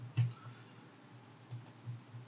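Sparse, light clicks from a computer keyboard, with a few separate keystrokes spread over a couple of seconds against a steady low hum in a quiet room.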